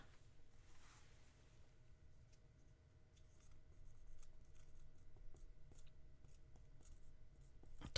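Pen or pencil scratching across paper in faint, short strokes, close by in a quiet room with a low steady hum underneath, no voices.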